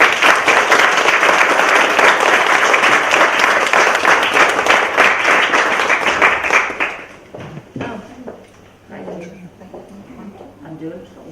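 Audience applause at a business women's club evening presentation, about seven seconds of loud, dense clapping from a crowd that tapers off into scattered claps as a voice begins speaking.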